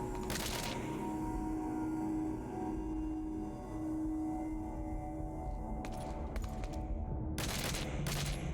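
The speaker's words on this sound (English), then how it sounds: "Did he just pull out a recoilless rifle?" Recoilless rifle fire in Metal Gear Solid V, with a few sharp blasts and bursts of gunfire over a steady background drone and game ambience, some shots close together near the end.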